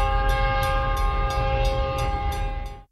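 A loud train rumbles along the rails with steady rhythmic clacking and a sustained horn-like drone, then cuts off abruptly.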